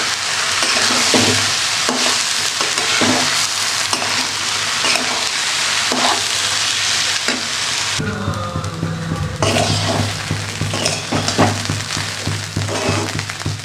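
Raw rice and lentils frying together in oil for khichuri, a loud continuous sizzle broken by regular scraping stirs, with a brief change in texture partway through as the grains are turned.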